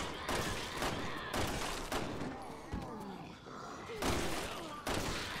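Gunshots ring out in Resident Evil 6 as players fight zombies, with sharp bursts of gunfire coming in irregular volleys, some close together and some spaced apart, and players speaking between the shots.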